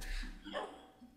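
A wolf pup in a modded Minecraft Tekkit game gives one quiet, brief bark-like yip, faint and short.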